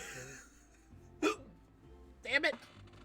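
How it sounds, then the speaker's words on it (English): Two sharp hiccups break out about a second apart, each a quick squeaky vocal catch, close and distinct against a quiet background with faint game music. "it's giving me the hiccups"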